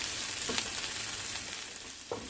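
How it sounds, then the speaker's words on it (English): Cabbage and other vegetables sauté in a hot pan for Korean black bean noodles, a steady close sizzle with faint stirring scrapes and no voices. "continue sauteing this for another couple minutes, just to allow the cabbage to get some browning and cook out a bit"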